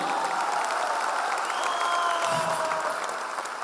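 An audience at a speaking event breaks into sustained, dense applause, many hands clapping together in a steady wash that tapers slightly at the end, with faint voices underneath.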